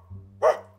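A person imitates a dog barking with a single short, sharp bark-like yelp, close and clear against a quiet low hum.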